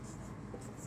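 Chalk or marker writing on a board during a determinant lesson in a maths class: short, scratchy strokes up close in a quiet room.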